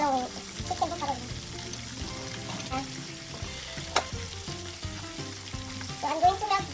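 Chicken buffalo wings frying in oil, a steady close sizzle with stirring clatter and a brief splash of water, holding at moderate loudness throughout.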